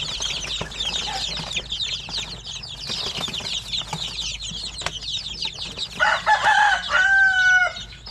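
Basilan and Zamboanga native chickens clucking and calling in a busy chorus, with a loud rooster crow rising near the end, flapping and rustling mixed in, no talk.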